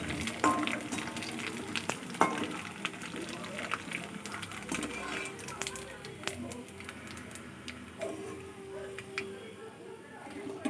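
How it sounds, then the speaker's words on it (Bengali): Papadums frying in hot oil with a steady crackling sizzle and occasional stirring clatter, close by, with a voice speaking over parts of it. "কতগুলো পাঁপড় ছিল, পাঁপড়গুলো ভাজছি"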